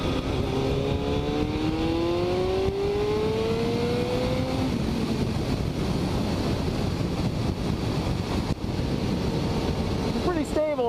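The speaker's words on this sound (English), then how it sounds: "I'm not super thrilled about the exhaust note." A Kawasaki ZX-7R motorcycle exhaust climbs steadily in pitch for about five seconds as the engine revs, then fades into heavy, continuous wind rush.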